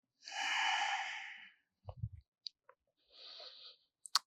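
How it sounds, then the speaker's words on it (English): Slow, deep breathing during a grounding yoga practice, a long airy exhale and a second shorter breath close to the mic, broken by faint clicks and a soft snort-like sound, otherwise quiet. "And just take a few breaths."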